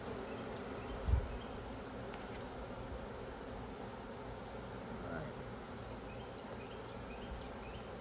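Honey bee swarm nested inside an outdoor electric meter box, giving a steady, dense droning buzz throughout, with a brief thump early on and faint voices in the background.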